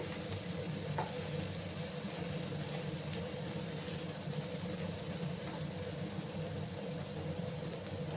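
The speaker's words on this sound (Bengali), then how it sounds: "আর একসাথে ভালো করে আমি আবার কাঁচা লঙ্কা পেঁয়াজ একসাথে কষিয়ে নেব।" Green chillies and onion frying together in a pan for a rohu fish curry with okra, a soft, even sizzle under a low steady hum, continuous and unchanging throughout, without any talking.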